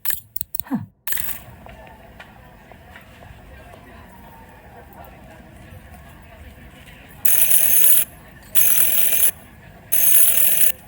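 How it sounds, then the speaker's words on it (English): In the video game Syberia: The World Before, a door bell rings three times near the end as three bright, even rings with short gaps. A clunk comes first, then a quiet stretch with spoken dialogue. "Ring 3 times for urgent matters."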